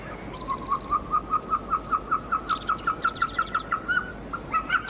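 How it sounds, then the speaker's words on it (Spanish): A Caucasian snowcock, known as the mountain turkey, calls high in the Caucasus above the treeline with a long run of evenly spaced whistled notes, clear and steady over light background hiss. "Los primeros viajeros llamaron a estas tímidas aves pavos de montaña."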